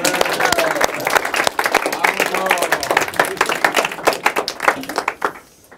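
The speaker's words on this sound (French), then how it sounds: "vous pouvez l'applaudir" An audience at a French magic show claps for a volunteer, dense close applause with bright individual hand claps that thins and trails off at the end.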